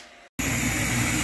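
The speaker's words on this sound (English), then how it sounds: "that sound is the air injection as well as my fan" Longer Ray5 laser engraver with its air assist pump and a fan switching on, a brief dip to silence then a loud, steady broadband hiss and whir running alone close by.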